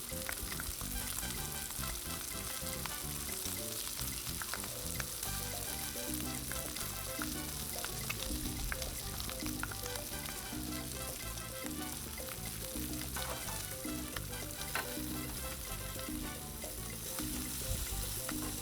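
Bacon cheeseburger patties sizzle steadily on a Blackstone 22-inch griddle, a dense, even frying hiss with small crackles that continues unbroken and fairly quiet, with no voices.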